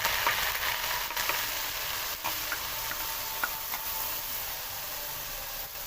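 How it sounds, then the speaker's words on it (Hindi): Ground onion paste sizzles and fries steadily in a hot pan for an aloo gosht curry, a continuous bright hiss with faint crackles and a few soft stirring ticks, close and alone with no talking. "तो अब इसके अंदर सबसे पहले हम प्याज डाल देंगे।"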